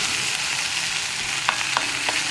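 Okra thoran (vendakka) being stirred in a pan, a loud, close, steady sizzle with a few quick spatula scrapes near the end and nobody talking.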